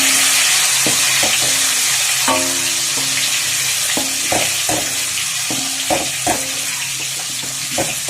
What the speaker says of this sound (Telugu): ఆయిల్ వేసి అందులో కొద్దిగా పసుపు వేసి గుడ్లు బాగా వేయించుకోవాలి